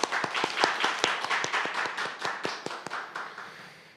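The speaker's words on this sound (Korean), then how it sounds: "큰 박수로 맞이해 주십시오." Audience at a Korean sociology symposium claps to welcome the next presenter, with sharp individual hand claps standing out over a fuller applause wash that gradually tapers off.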